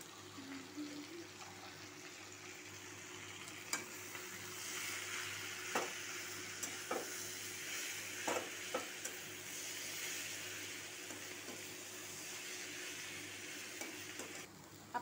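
Egg and vegetable chochori frying in a pan with chili and cumin powder, a soft continuous sizzle with scattered stirring clicks, fairly quiet.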